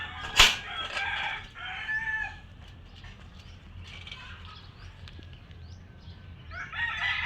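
Farm-raised desi Sonali chickens, with a short sharp call near the start followed by faint clucking and crowing against a quiet background.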